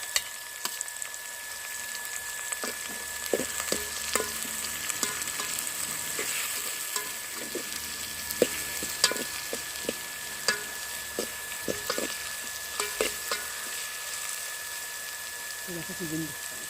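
Green chilies fry in oil over a wood-fired stove, a steady soft sizzle underneath scattered clinks and scraping stirs, with people talking at times.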